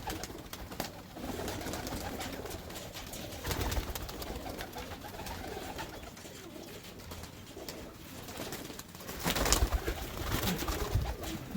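Pigeons coo in a loft, soft repeated throaty calls overlapping at moderate distance, with rustling and clatter around them throughout.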